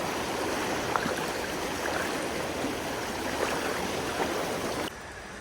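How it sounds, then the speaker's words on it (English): Creek water flows steadily at a Pennsylvania trout stream in the morning, a constant broad rushing wash with faint gurgles, heard alone and fairly distant, dropping slightly in level near the end. "Another morning here in the creek."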